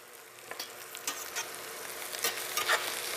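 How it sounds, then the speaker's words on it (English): Vegetables with green tops are stir-fried in a hot pan: a continuous moderate sizzle broken by rhythmic scraping and tossing sounds as they are stirred, close and without speech. "I've just stir-fried that for just a few seconds. I'm going to add the green tops."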